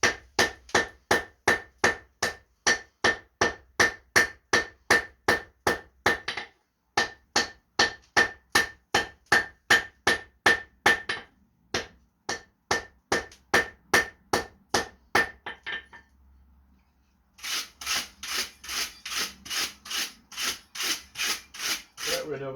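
A hammer taps steel on an anvil during forge welding, light rapid, evenly spaced ringing blows in long runs broken by short pauses, then a brighter, quicker burst of strikes near the end.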